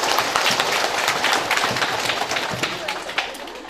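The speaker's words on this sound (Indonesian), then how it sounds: "Baik, kita tepuk tangan untuk Pater Kanis dulu." An audience claps for a newly ordained priest at a thanksgiving celebration of his ordination. The applause is dense and sustained, with many hands clapping close by for several seconds.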